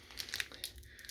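A Lorcana trading card pack wrapper crinkles and tears open close by, a short burst of crisp plastic crackling with no talk.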